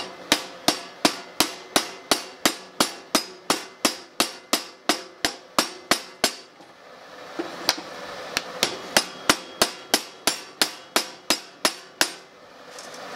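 Sharp metallic hammer taps strike a wrench to loosen a table saw blade, a fast steady run of about twenty blows, a brief pause, then another quick series of close, ringing hits.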